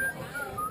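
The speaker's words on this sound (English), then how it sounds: "What is that whistling?" A person whistles a thin, sustained tune in a brief fragment, steady pitched notes riding over a noisy, roomy background.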